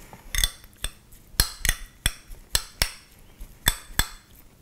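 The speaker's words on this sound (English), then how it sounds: "Just chopping the parsley" A knife chops fresh parsley on a cutting board in a kitchen, making about a dozen sharp, close knocks in an uneven rhythm with short gaps between them.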